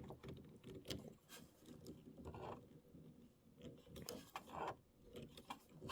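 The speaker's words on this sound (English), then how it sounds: "we can unscrew this, which I'm going to do right now" Small mechanical clicks and ratcheting taps of a part being unscrewed on a Brother Aveneer EV1 sewing machine, irregular quiet bursts with handling noise between, close and faint.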